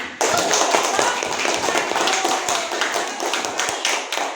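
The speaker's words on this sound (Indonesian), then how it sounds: "ya, bagus. Tepuk tangan." Children in a primary classroom clap together in quick, sharp taps after a teacher praises a group's answer, a loud, brief burst with a voice faintly mixed in.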